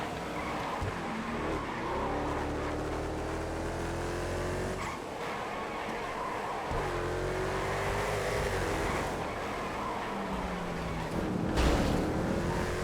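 Faggio Supersport scooter engine in the GTA FiveM racing game, droning loud and steady at high revs with shifting pitch as it speeds along, broken by brief dips and a few tyre squeals.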